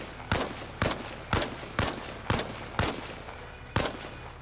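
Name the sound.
heavy .50 cal machine gun firing in Arma Reforger video game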